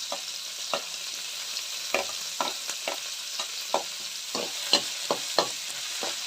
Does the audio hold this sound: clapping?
no